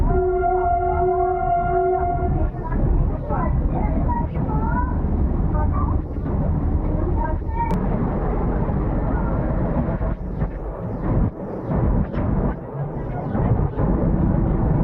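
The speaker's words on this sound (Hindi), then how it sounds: "ट्रेन कर्व करते हुए बढ़ रही है टनल की तरफ" Meter gauge passenger train rolling through a ghat section toward a tunnel, with loud continuous wheel and rail rumble, a sustained horn near the start, and steady clattering throughout.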